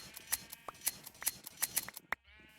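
Sheep being sheared in a video game give about a dozen sharp, crisp snips in an irregular run, close and clean, with short bleats mixed in before the sound cuts to near silence.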